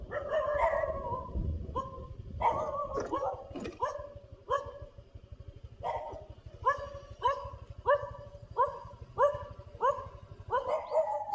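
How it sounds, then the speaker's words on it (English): Several dogs bark near a former resort among Thai temples, starting with scattered mixed barks and whimpers, then settling into a steady run of rhythmic, fairly close barking with no voices. "So the dogs are coming, which isn't good."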